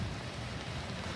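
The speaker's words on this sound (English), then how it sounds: "I'm going to mooch around in this absolute torrential rain." Torrential rain pours down steadily in Madrid, a dense, even hiss of downpour with no voices, fairly quiet overall.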